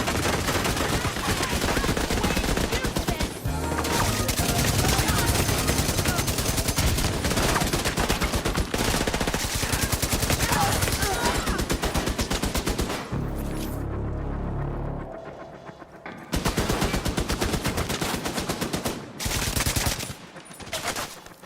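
Hostile automated turrets in the video game The Division fire dense, sustained bursts of rapid gunfire that run loud and near for most of the stretch, broken by a short lull before the firing resumes.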